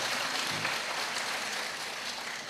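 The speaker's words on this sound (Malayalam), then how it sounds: "മൂന്നാമത്തെ റൗണ്ടിനൊന്ന് ക്ലാപ്പ് ചെയ്ത് കൊടുക്കുകയും" Continuous applause from the audience at a Quran memorization competition in Palakkad, a dense steady clatter of many hands clapping at an even level for the whole stretch.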